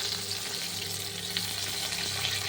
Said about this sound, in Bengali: ফুলকপিগুলো আমি আগে ভেজে নিচ্ছি।